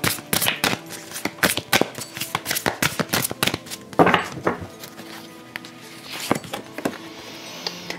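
Tarot cards being shuffled during a reading: a quick run of sharp, papery riffling clicks and flutters, fairly close and alone, easing into softer handling noise toward the end.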